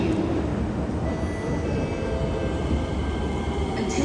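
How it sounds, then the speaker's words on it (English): An SMRT Kawasaki C151B metro train arriving at Jurong East station rumbles steadily along rails with a low roar and faint high whine, loud and near, with no voices over it. "The last train to Ang-Mo-Kio is arriving."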